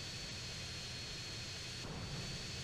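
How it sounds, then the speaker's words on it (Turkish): A jet aircraft's engine in GTA San Andreas gives a steady, loud, unbroken roaring drone with a faint high whine on top, holding at an even level throughout with no voices. "Uçmuyor abi bu uçak."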